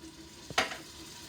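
Crushed tomatoes pass through a food mill into a hot pot, giving one brief, sharp sizzle that fades quickly against a quiet kitchen background.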